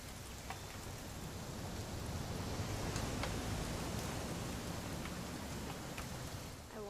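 Steady rainfall hisses in the video game What Remains of Edith Finch, a continuous even patter of drops with a few faint higher ticks, holding a constant moderate level throughout with no voices.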